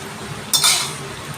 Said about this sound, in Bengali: ভালো করে মাখিয়ে নেব।